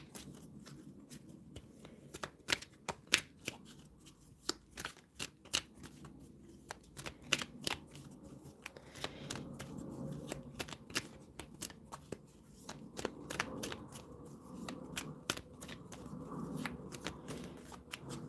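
Tarot cards being shuffled and handled by someone with freshly done nails, a long run of crisp, close riffling clicks and soft slides coming in irregular bursts, with no voices.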